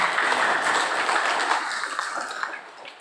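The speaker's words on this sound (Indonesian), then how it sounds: "Ya, tepuk tangan yang meriah." An indoor audience at an Indonesian NGO's anniversary and national working meeting in a hotel ballroom claps, a dense, steady wash of applause that slowly thins and fades toward the end.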